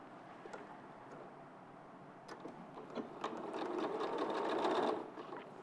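A domestic sewing machine stitches quilting fabric pieces at a steady, fast, whirring mechanical patter. The stitching is moderately quiet and speeds up and grows louder toward the end before easing off, with no talk.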